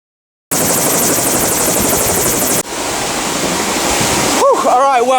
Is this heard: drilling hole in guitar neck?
no